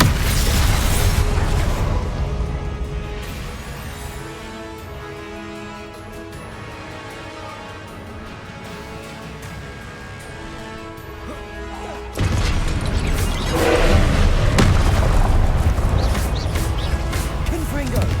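Confringo blasting spells explode in Hogwarts Legacy, producing repeated heavy booms and crashes over continuous game music and battle noise, loud and dense, with a sharp surge of blasts in the final seconds.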